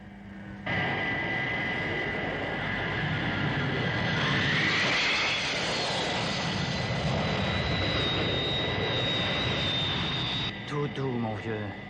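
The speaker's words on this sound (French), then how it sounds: "Train d'atterrissage, volet sorti et fusée de freinage allumée." Aircraft landing with landing gear and flaps down and braking rockets fired, heard as a loud, sustained jet roar with a rising whine that runs for most of the stretch and then cuts off near the end.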